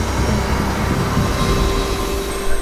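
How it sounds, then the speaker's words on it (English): A passenger train in Italy starts moving from a station platform, a loud, continuous rumble of wheels and carriages with a thin high squeal running through, close by and without talk. "Oh, the train's starting up."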